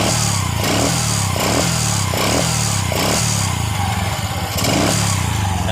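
A motorcycle engine fitted with an aftermarket (non-original) carburetor idles smoothly and steadily up close, its even low throb pulsing with a faint periodic swell and a light mechanical clatter, with no talking.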